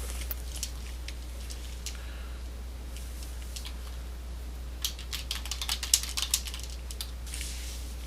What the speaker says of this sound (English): Put in the topic title and type a message.